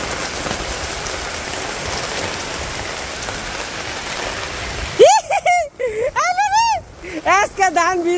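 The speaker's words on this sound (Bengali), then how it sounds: "বৃষ্টি আইছে গো" Steady rain pours down during Bangladesh's rainy season, a dense hiss lasting through the opening seconds before excited voices talk loudly over the continuing downpour.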